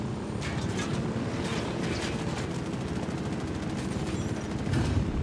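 Rapid automatic gunfire rattles in a dense, unbroken stream from the Ghost Recon video game, loud and close, with a rushing wind-like backdrop and no talking.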